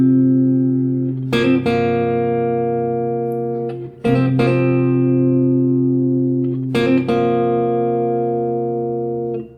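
Electric guitar plays the intro of a song: three sustained, ringing chords struck a few seconds apart, each decaying slowly, clean and close with no voices.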